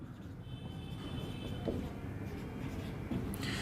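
Marker or chalk scratches steadily as a matrix is written on a board, a continuous close scraping with a faint hum beneath.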